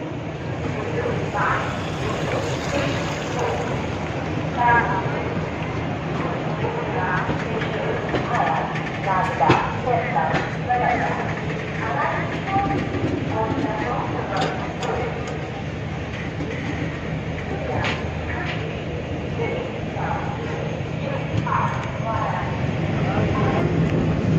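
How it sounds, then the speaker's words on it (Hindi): A Garib Rath Express train pulls out of Indore station with a steady rumble and rattle of rail cars, with people talking over the noise throughout. "ट्रेन यहाँ से डिपार्चर हम आपको दिखा रहे हैं।"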